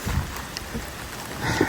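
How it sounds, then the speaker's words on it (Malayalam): A light outdoor drizzle of rain falling near a fire by the sea, a soft, steady patter and hiss with a few faint, scattered drop sounds. "നല്ലൊരു ചാറ്റൽ മഴ ഉണ്ട്."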